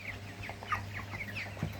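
Broiler chickens twenty-four days old cluck and chirp in a quick, irregular series of short calls over a faint steady hum, fairly soft and close.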